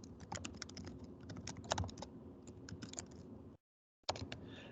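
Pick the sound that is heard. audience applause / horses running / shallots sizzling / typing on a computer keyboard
typing on a computer keyboard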